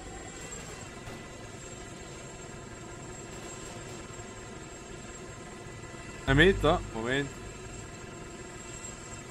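A steady helicopter engine and rotor drone from the video game Arma 2 runs throughout, with voices talking briefly over it.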